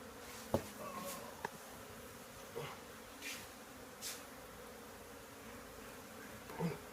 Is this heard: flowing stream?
no